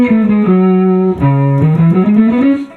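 Electric guitar run through a distortion effect plays a loud, sustained melodic line with smooth bends and slides, up close and alone with no talking.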